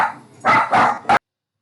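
Several household dogs barking at a postman knocking at the front door, three sharp loud barks in quick succession, close by, followed by sudden silence.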